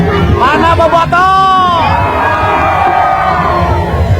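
Crowd of football supporters (Bobotoh) in West Java bursting into euphoric cheering and shouting, a loud dense roar with rising yells and babble, mixed with nearby voices talking.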